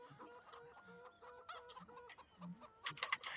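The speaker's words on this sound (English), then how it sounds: "Look at all the chickens." Chickens clucking on a farm in the Farming Simulator video game, several birds giving short repeated clucks and squawks close by, livelier toward the end, with no voices.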